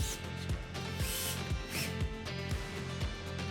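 A power drill drives screws through wooden slats into a frame, with steady, rhythmic whirring bursts and repeated ratcheting clicks at close range, loud and continuous for a few seconds, with no talking.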